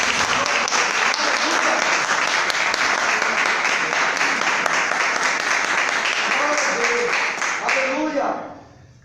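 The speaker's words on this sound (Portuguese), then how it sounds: "as palmas ao nome de Jesus" A church congregation at an evangelical family worship service breaks into loud, sustained applause, dense crowd clapping with voices mixed in, holding steady before tapering off at the end.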